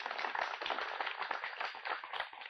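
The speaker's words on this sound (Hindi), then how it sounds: "जोरदार तालियां बजाइए विशेषज्ञों के लिए" Applause for agricultural experts at a sugarcane farmers' forum held by a sugar mill in Dhampur, dense steady clapping from a crowd lasting the whole stretch, loud and close with no voices over it.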